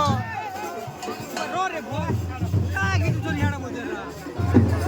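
Busy crowd babble at a village Rath Yatra festival, many overlapping voices at a steady level with nearby talking rising over the din.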